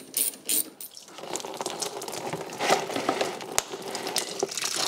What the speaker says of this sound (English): I will remove the bottom hose on the radiator.